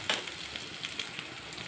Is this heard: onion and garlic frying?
yes